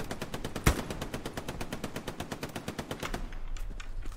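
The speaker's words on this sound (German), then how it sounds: "Oh, Schüsse von da hinten." Rapid automatic gunfire from the WWII shooter game Hell Let Loose rattles off in a steady, unbroken stream, one louder crack standing out early, heard at moderate distance with no talking.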